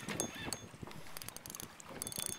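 A fishing reel's drag is tightened on a redfish boat trip, giving quiet, irregular clicks and ratcheting ticks in quick bursts against faint background noise.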